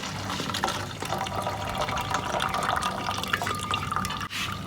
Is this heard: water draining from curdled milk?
yes